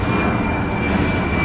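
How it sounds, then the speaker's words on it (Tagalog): A fixed-wing airplane passes overhead near an airport, its engine roar steady, loud and continuous throughout the short moment with no one speaking. "May dadaan na naman na aeroplano."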